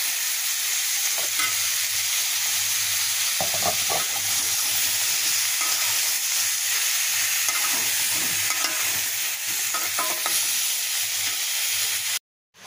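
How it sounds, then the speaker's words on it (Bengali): Pointed gourd sautés with spices in a pan, giving a loud continuous sizzle and hiss with repeated stirring scrapes, ending abruptly, no talking. "পটলগুলো ভালোভাবে কষিয়ে নেব।"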